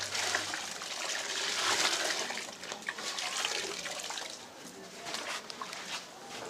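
Water runs and splashes steadily over a jacket being rinsed by hand, a broad, continuous gush close by that swells and eases without pause.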